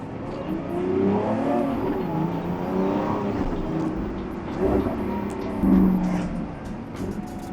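Lamborghini Aventador SVJ (2022) V12 engine running steadily at close range, a loud continuous low drone with slight swells and a brief rise near the end, with no talk over it.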